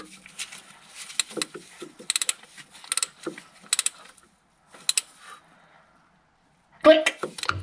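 A hand ratchet snugs up the crankshaft sensor bolt on a 1.2 Corsa D, giving bursts of sharp close clicks in quick runs with pauses between, then a final louder flurry, with brief speech mixed in.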